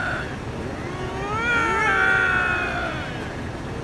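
A drawn-out, wavering yowl from wild cats caterwauling in mating season rises and falls over a few seconds, loud and close, with harmonic wails stacking up in the middle.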